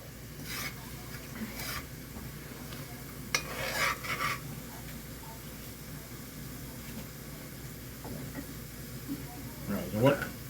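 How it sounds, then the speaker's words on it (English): Curry for curry chicken fries and is stirred in a pot, with soft scraping and clinks over a low sizzle, while people talk quietly nearby. "So we let it fry up a little bit."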